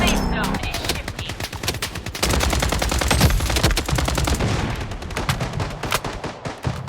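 Dense, rapid gunfire in the shooter game Blood Strike, with loud automatic bursts and sharp shots layered almost without pause and a brief burst of game voice callouts near the start.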